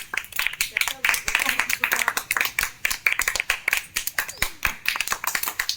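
A small group of people clapping hands at a home comedy eating game, rapid uneven claps close by, continuing under cheerful chatter.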